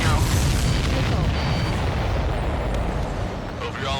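Missile explosions from the Ace Combat 7 combat flight game roll through as a dense, continuous booming barrage with low-end rumble, loud and sustained throughout with no clear gaps.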